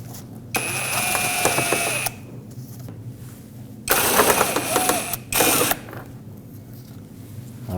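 Power screwdriver backing out Phillips head screws from a panel near the front wheel of a Nissan Frontier during headlight replacement, three distinct whirring bursts, the first long and the next two shorter, close and loud.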